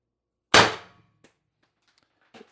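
A TR50 Torpedo CO2 air gun fires a single sharp, loud shot with a ringing metallic tail that fades within half a second, followed by a few faint clicks and handling noises.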